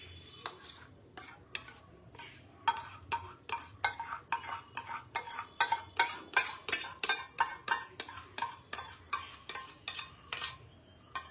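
A spoon scrapes and stirs a blended paste in hot oil in a pan on low heat for paneer kofta curry, making quiet, rhythmic strokes that grow steadier and faster, with a faint sizzle underneath.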